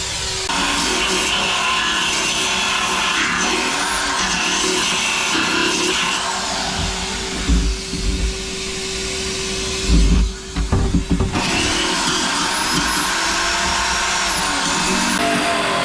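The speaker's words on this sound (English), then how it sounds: "So I'm actually grinding through." A power tool grinds through an encapsulated fiberglass (GRP) chainplate on a boat, a loud continuous whine and rasp that runs nearly the whole time with brief dips and bites as the tool catches the material.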